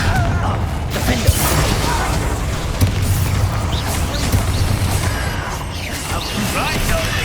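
Confringo blast spell explosions during combat in Hogwarts Legacy, loud booming impacts and crashing debris over a dense, continuous battle din, with speech mixed in.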